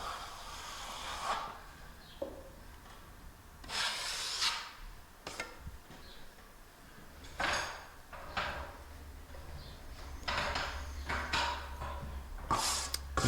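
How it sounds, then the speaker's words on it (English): A steel trowel scrapes and smooths the finish coat of plaster across a plasterboard ceiling in a series of repeated rasping strokes, each a few seconds long and separated by short pauses, heard close and with no speech. "That's how I finish coat ceilings using a fork and trowel."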